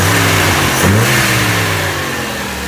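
A restored 1967 Volvo Amazon engine runs steadily close by, with a low, even idle and a brief rise in revs near the start before it settles back.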